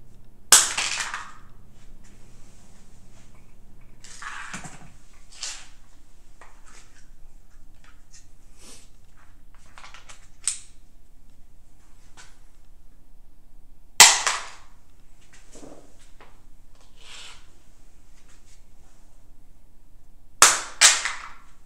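A Baofeng UV-5R handheld radio strikes a hard surface in a few sharp, isolated impacts, some followed by quick rattling bounces, with quiet gaps between drops.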